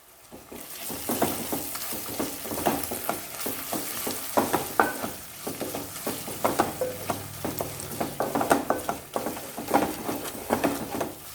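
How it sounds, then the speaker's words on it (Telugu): Ground masala paste and green chillies fry and are stirred in a pan for a Godavari-style fish curry, with close continuous sizzling and repeated scraping strokes of a spoon, no voices. "మసాలా అంతా బాగా కలిసేటట్టు తిప్పుకోండి."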